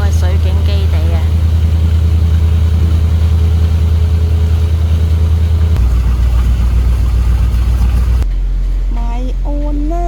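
A ferry's engine drones loud and steady as the boat comes in to dock at the pier, then cuts to quieter idling, with people talking nearby over the rumble.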